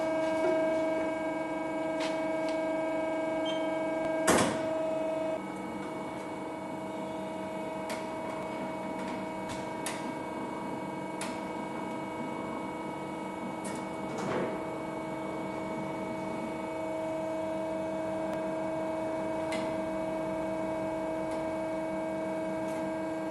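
Head of an Alligator E 820DG horizontal metal-cutting band saw rotating to 45 degrees, a steady mechanical hum with a few sharp clicks and clunks, including a loud knock near the start and another midway.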